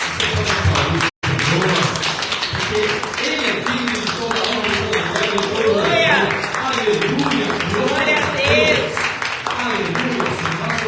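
A church congregation applauds in praise during a sermon, steady dense clapping with crowd voices sustained throughout, briefly cut off near the start, with speech mixed in.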